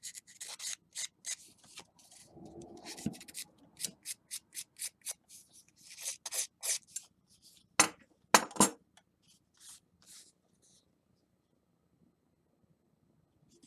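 Scissor blades scrape and rub along paper page edges to rough them up for an aged junk journal look, a run of short dry rasping strokes in bursts, close and fairly quiet, with a couple of sharper clinks and no talking.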